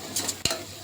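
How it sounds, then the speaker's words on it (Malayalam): Onions with a pinch of salt being sautéed in a pan at home, a soft steady sizzle broken by a single quick stir or scrape partway through, close and moderately quiet. "നല്ലോണം മിക്സാക്കി എടുക്കുക. നല്ലോണം വഴറ്റിയെടുക്കുക."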